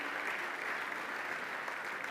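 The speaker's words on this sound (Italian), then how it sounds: "L'applauso del pubblico di Udine per Cinema Zero." An audience in Udine claps steadily and densely at a 2022 economy and development award ceremony, honouring the cultural association Cinema Zero; the applause fills the room evenly without cheering or talk.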